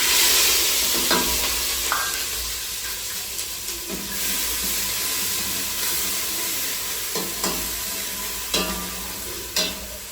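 Chilies drop into hot oil already crackling with mustard seeds and cumin, a loud, continuous sizzle broken by several sharp spoon scrapes and clicks against the pan.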